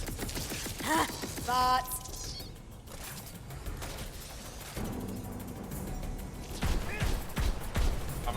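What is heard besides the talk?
magic barrage spell in the video game Tiny Tina's Wonderlands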